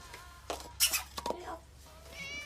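A pet cat named Bella meows a few times in a domestic kitchen, with short, faint cries scattered among household sounds and quiet background chatter.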